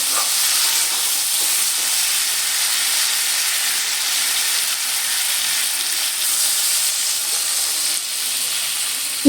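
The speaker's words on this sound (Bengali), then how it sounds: "এর মধ্যে এবার দিয়ে দেবো পরিমাণ মতো জল।" Water is poured into a pan of oil-fried hog plums for a snakehead fish curry, setting off a loud, steady, broadband sizzle and hiss that stays even for about nine seconds, with no talking.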